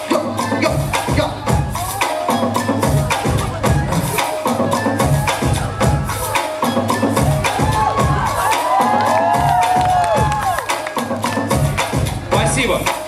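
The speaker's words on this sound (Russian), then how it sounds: "И аплодисменты!" An audience at a freestyle battle cheers, shouts and claps in a dense, lively crowd roar, with whistles and high yelling voices rising above the noise toward the end.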